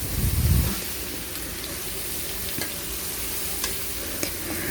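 Garlic paste and ginger paste stir-fried with vegetables for a Bengali lati bhuna with dried fish and potato, giving a steady close sizzle with a loud burst at the start and light scraping stirs throughout, no talk.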